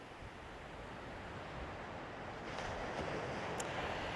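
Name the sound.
wind at Aberdeen beach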